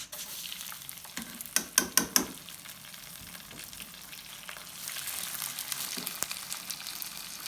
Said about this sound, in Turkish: Bu sıcak haliyle sıcak şehriyenin üzerine ilave ediyoruz.